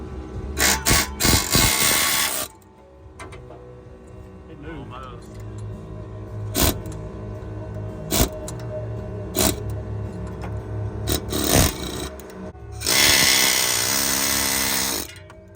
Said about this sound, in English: Now we're going to try the pneumatic persuader.